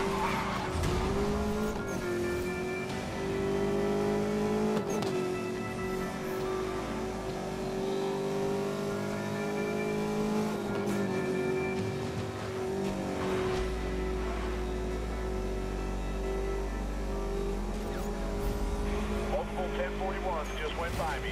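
Street-racing cars in Need for Speed Most Wanted (2012) roar and rev steadily, tires squealing and skidding through turns, while radio-style voices talk over the constant engine drone.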